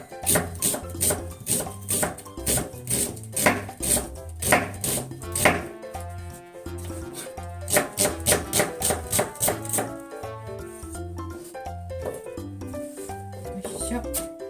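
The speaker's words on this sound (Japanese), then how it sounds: "玉ねぎね、タルタルソースの玉ねぎはみじん切りしたいと思います。" Onion being finely minced with a kitchen knife on a cutting board for tartar sauce: rapid, crisp, rhythmic chops in close runs with short pauses between them.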